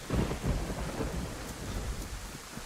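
Steady rain with rolling thunder in the survival game DayZ, a dense low rumble and broad hiss running continuously, moderately loud and close, with no voices.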